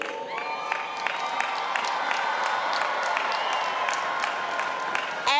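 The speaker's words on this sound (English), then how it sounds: "I want you to scream, and I want you to clap about the accomplishments for the class of 2026." A high school commencement crowd applauds, cheers and screams, with shrill whoops and whistles rising over steady clapping that holds loud and even throughout.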